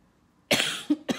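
A person coughs sharply three times in close succession, one long harsh burst followed by two shorter ones, loud and close in an otherwise quiet room during a live makeup kit tutorial.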